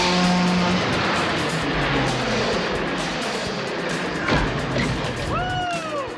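A Knight Rider KITT replica car fires its turbo boost effect: a loud sustained engine roar with a rising whine, ending in rising swooping electronic tones, with voices partly underneath.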